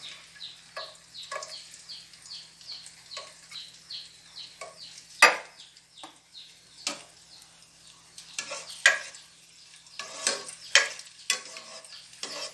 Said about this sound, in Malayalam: എണ്ണയിലിട്ട് വറുത്ത് പോരാം